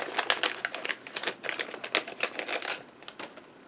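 Small paper envelopes of craft pieces are opened up close, giving quick crisp rustles, crinkles and tearing clicks in an irregular run.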